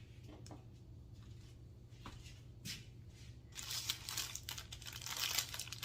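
Plastic packaging being cut open with scissors, quiet crinkling and snipping at first, growing into louder rustling and crumpling of the plastic.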